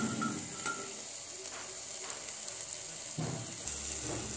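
Drumsticks drop into a hot tempering in a pan, giving a steady close sizzle with faint stirring and a few brief louder bursts of frying.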